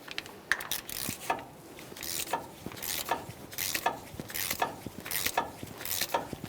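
Ratcheting clicks repeat in quick bursts as an axle nut is torqued on a 2015-2020 Ford F-150 during a front strut replacement, close and fairly quiet, with no talking.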